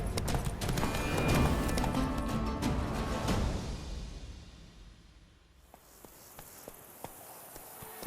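A horse galloping in The Witcher 3: Blood and Wine, with loud, dense hoofbeats that fade out over several seconds, leaving a few faint clicks.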